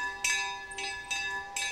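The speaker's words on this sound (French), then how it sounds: "Et c'est lui qui sonne la cloche rituellement." A hand-rung ritual bell at the Château d'Yquem wine estate in Sauternes, marking the start and end of work: three or four bright, ringing strikes in quick succession, fairly close and clear.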